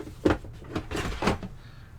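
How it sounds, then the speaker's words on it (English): Someone rummaging through household drawers: several close wooden knocks and sliding scrapes as drawers are pulled open and pushed shut in quick succession. "Excuse me while I play in my drawers."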